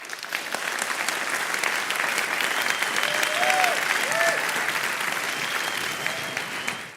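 Audience applause closing a twelve-part lecture series, a steady dense clapping from a large crowd that holds evenly for about seven seconds before tapering, with faint cheering whistles mixed in.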